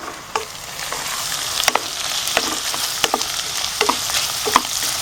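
Chicken keema cooks in a pan over a medium flame, giving a steady close sizzle with frequent sharp spatters and stirring clicks scattered through it, and no voices.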